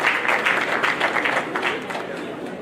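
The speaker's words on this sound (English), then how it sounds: "Please clap for him." A crowd at a technical institute graduation ceremony claps in a steady wash, loud at first and gradually thinning, with faint voices mixed in.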